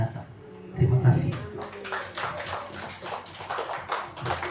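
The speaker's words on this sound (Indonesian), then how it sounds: "tepuk tangan lagi yang lebih kuat sedikit" A farewell ceremony audience gives a round of hand clapping, bursts of claps rising over background voices and chatter.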